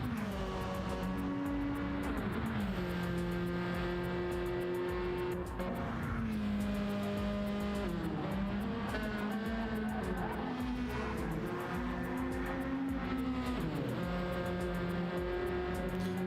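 Race car engine at Monza in a racing game, loud and continuous, with its pitch rising and falling through gear shifts, and the engine notes of other cars mixed in.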